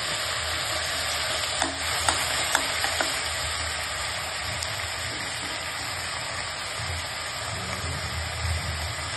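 Ginger garlic paste sizzling and frying in a hot pan, a steady broadband hiss with a few soft stirring clicks, continuous and close throughout.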